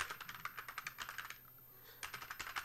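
Quick, light clicking of fingers typing a message on a computer keyboard, close and fairly quiet, with a short pause midway before the keystrokes resume.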